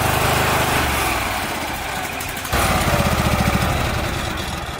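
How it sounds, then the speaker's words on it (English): A lawn mower engine misfiring on only one cylinder runs loud and close, its rough, uneven drone pausing briefly before surging back with a harsher, pulsing beat. "It is only running on one cylinder."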